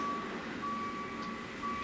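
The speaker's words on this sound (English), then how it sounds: "How dare you beep, beep, beep in the parking lot while I'm working." A vehicle's reversing alarm beeps in a parking lot with a repeating high electronic tone against a constant background hum of traffic, heard from a moderate distance.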